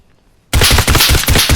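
Rapid automatic gunfire in the VR shooter Geronimo VR bursts in loud and close after a brief quiet moment, a dense stream of shots running to the end.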